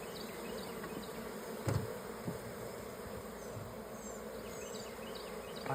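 Bees buzz steadily at a hive, a dense continuous drone close by with a brief louder thump partway through.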